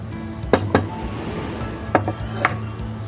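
A few sharp clinks of a spoon against a bowl as hand-pounded spices are tipped into a cup of yogurt for tandoori chicken marinade, scattered irregular knocks over a low background hum.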